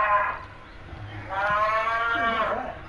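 A cow moos in the Hunter Call of the Wild video game, set in New Zealand paddock country: one long, loud, low lowing call held for over a second, close by.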